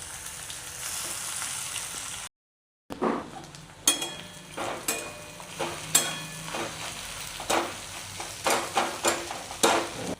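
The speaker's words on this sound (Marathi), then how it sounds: "तर आता आपला कांदा आणि लसूण चांगला परतून झालेला आहे" Chopped onion and garlic frying in hot oil for a spicy chicken dum biryani masala, a steady close sizzle broken by a series of scraping stirs, with one brief gap of silence.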